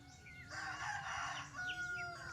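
A rooster crows at a distance, one long rising and falling call, fairly faint against a low background rumble.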